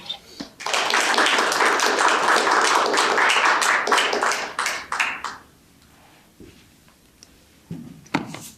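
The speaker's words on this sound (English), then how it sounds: "If everyone wants to give a big round of applause for Dr." Audience applauding a speaker after an introduction, a burst of clapping from a modest crowd lasting several seconds, then fading out into quiet with a few scattered sounds.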